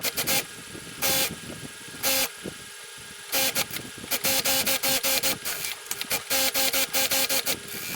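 A sewing machine stitches a salwar leg in short, rapid bursts of whirring and clattering, separated by brief pauses, close by and fairly quiet.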